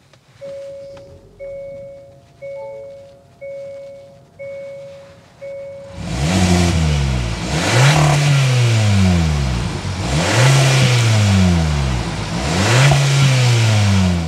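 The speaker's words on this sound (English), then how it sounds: "start it up so you can hear that exhaust note." A 2024 Hyundai Kona N-Line parked and idle, with a series of short cabin warning chimes before the engine cranks and catches, then several loud, close revs with a throaty exhaust note.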